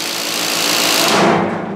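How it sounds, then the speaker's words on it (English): A faulty garage door opener stopping partway lets out a loud, harsh grinding rattle that runs steadily for under two seconds, then cuts off abruptly. "If your garage door opener stops partway and sounds like this"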